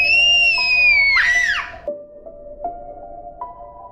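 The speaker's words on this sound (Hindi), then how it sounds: "तभी दोबारा वही चीखने की आवाज आई।" A shrill, wavering scream effect in an animated horror story set in a hospital morgue rings out loudly for about a second and a half, falling in pitch, then gives way to a few soft thuds and clicks.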